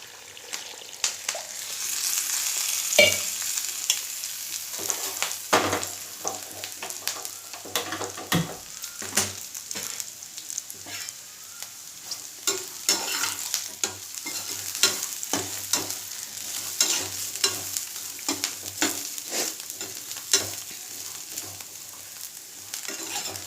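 Tamarind cooks in a pan for ginger pickle as water is added, and it sizzles steadily while a spoon scrapes and stirs it. There are irregular scraping knocks throughout and no talking.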